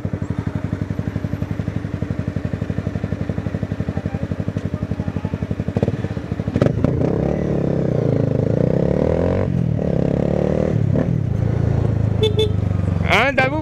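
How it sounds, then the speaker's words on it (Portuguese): A Honda CBR250R motorcycle engine idles with a rapid steady putter, then revs up loudly into a sustained roar, close by, with voices talking over it. "A moto grita muito, mano."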